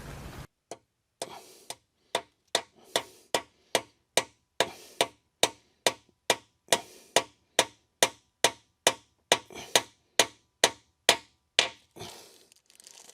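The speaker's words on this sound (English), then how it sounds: "you're just going to put them on there and just tap it in" Metal DOD delete plugs are tapped into a 5.3 Silverado engine with a hammer, giving a long, steady run of around thirty sharp, close taps at an even rhythm, with no talking.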